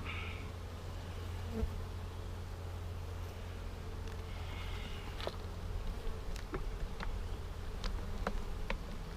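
Honeybees from a package colony buzz around a syrup feeder pail, a continuous droning hum of many insects close by, with individual bees flying past and soft clicks over a low steady background rumble.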